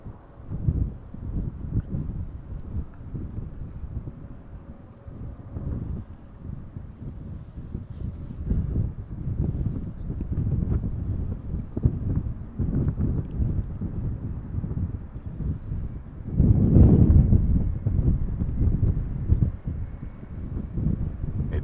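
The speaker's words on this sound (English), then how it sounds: "We've been having a 14 knot wind all morning now so far." Strong, steady wind buffets the microphone outdoors at Schiphol Airport, a continuous low rumble that swells into a louder gust near the end, with no voices.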